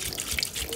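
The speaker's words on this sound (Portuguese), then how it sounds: "Vou deitar água agora." Water poured from a tap into a soup pot holding chicken pieces, stock and oil, a brief steady splashing rush heard up close without talking.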